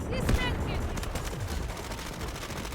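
Gunfire in the shooter game Delta Force, rapid shots crackling in a busy firefight, with a burst of louder close rounds near the start followed by steady distant rattling.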